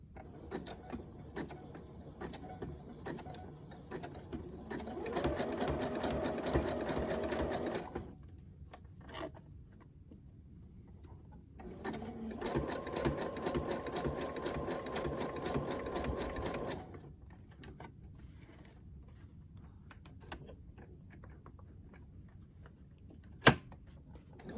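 A sewing machine stitches patchwork fabric in two long whirring bursts of several seconds each, separated by quiet pauses with light handling noises and a sharp click near the end.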